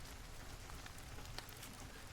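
Steady rain falls in a soft, even hiss with faint scattered drops, continuous and low in level, with no voices.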